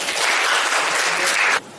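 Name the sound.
applause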